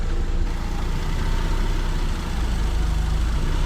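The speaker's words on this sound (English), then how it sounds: "Let it pick up idle." A 3G Mitsubishi Eclipse engine idles steadily up close, a loud continuous low rumble with no talking over it.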